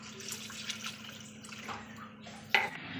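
Water poured into a cooking pan over browned spices for a Bengali live-fish curry, a low steady trickling wash with faint splashes and one sharp metallic clink near the end, close and with no talk.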